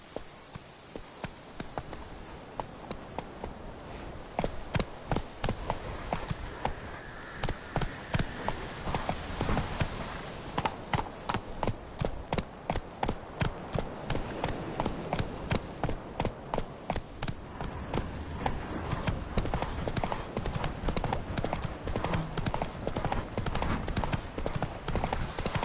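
Roach the horse galloping in The Witcher 3, a fast, continuous clip-clop of hooves pounding steadily and loudly for the whole stretch, with faint background game noise.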